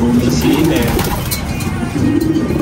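Pigeons coo in low, rolling calls nearby, with someone talking over them.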